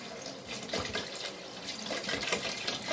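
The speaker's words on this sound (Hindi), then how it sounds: "अब हम इसमें 6 गिलास पानी को शामिल कर देंगे" Water streams steadily into a pot of chicken for Rozz Bukhara pulao, a continuous splashing pour heard up close with no talking over it.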